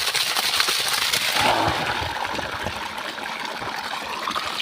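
A stream of floodwater rushes steadily past in a garden, a continuous broadband hiss and gurgle that stays loud and near throughout.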